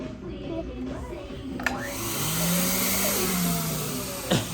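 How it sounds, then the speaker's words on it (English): A hair dryer blows with a steady whooshing roar, switching on abruptly, its pitch bending as it runs, close and fairly loud. "Blow dryer for my hair."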